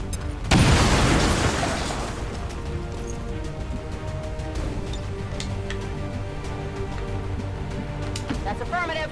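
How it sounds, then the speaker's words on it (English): A frag grenade goes off in XCOM 2, a loud booming blast with a rumbling tail that fades over a couple of seconds, followed by quieter game effects and a voice talking. "Or grenade, I should say, this one to death. Yeah, I do. Throw in a frag."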